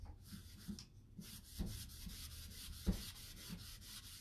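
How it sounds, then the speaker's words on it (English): Wax being buffed by hand across a painted vanity top, a steady soft rubbing that sweeps back and forth in repeated strokes, close and moderately quiet with no voices. "And it's just buffing out all over."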